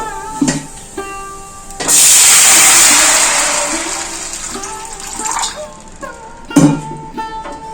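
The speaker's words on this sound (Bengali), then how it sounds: "এরপর জল দিয়ে দেবো" Water pours steadily and loudly into a pan of fried mung dal for several seconds, a rushing hiss that gradually softens, with a few clinks before and after.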